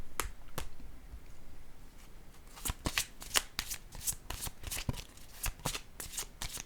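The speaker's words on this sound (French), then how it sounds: "Là, je vais piger une carte rose pour ici." A deck of cards, including a pink card, is shuffled and drawn from during a card reading, giving sharp papery riffles and snaps in quick bursts, close and crisp, with sparse taps early and a denser flurry later.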